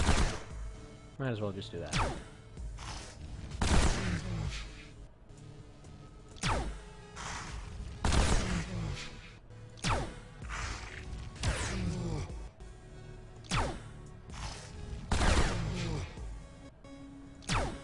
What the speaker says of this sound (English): just reload this thing and keep on firing